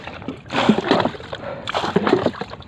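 Repeated scooping splashes of water being bailed out of a boat at sea, two main bursts with sloshing between, close by and fairly loud.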